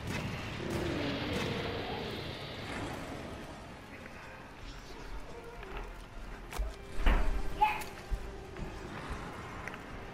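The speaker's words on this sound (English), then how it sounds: "Why don't you guys fire the cannons?" A deep cannon blast booms out about two-thirds of the way through, over a busy background of Monster Hunter: World game noise and rumble.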